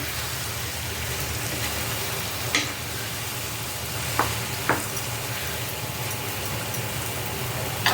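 Food sizzles steadily in a hot pan on the stove while it is stirred, with a few sharp scraping clicks of the utensil against the pan over the constant close frying hiss.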